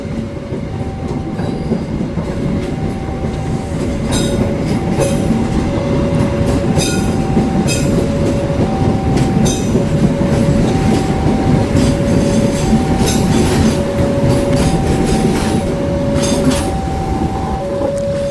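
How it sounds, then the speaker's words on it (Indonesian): The Jakatingkir long-distance passenger train, running from Pasar Senen to Solo Balapan, rolls past Yogyakarta station close by, a loud continuous rumble with rhythmic clickety-clack of wheels over rail joints and bright metallic squeals. "Oh, kereta api Jakatingkir dari Pasar Senen tujuan Solo Balapan."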